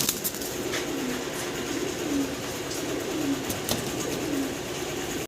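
Pigeons at a pigeon farm coo in repeated low, rolling calls roughly every second, steady and moderately close over a constant background rumble, with a few faint knocks.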